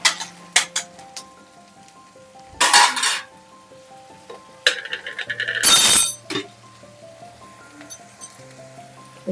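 Bhaji being stirred in a pan: loud metallic clanks and scrapes of a spoon against the pan come in irregular bursts, with a long scraping stroke near the end and quiet gaps between, close up.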